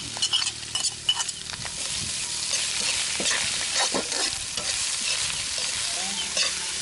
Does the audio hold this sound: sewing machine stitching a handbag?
no